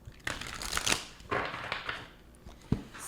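Tarot cards are shuffled by hand in a few quick riffling bursts with soft papery rustles between them, close and fairly quiet, with no talk.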